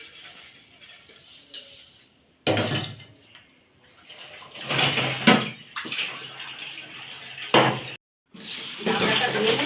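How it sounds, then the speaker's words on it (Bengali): Dishes are washed under running water in a home kitchen. The splashing and gushing come close by in uneven bursts, with brief breaks between them. "এবার বাসন কটা মেজে নেব"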